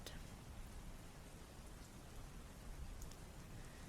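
Rain from a storm outside falls in a steady, dense hiss with soft patters, filling the background evenly throughout with no talking.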